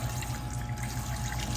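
A kitchen tap runs steadily while dishes are washed, a close, continuous hiss and trickle of water with no talk over it.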